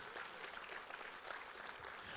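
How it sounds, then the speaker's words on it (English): A church congregation claps in praise during a sermon, a dense, even patter of many hands heard from a distance at low level, with no voices over it. "give Him a hand clap of praise"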